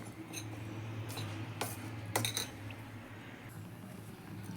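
A spoon clinks against a bowl while custard powder is mixed into milk, giving a few light, scattered taps that are faint and close over a low steady background hum.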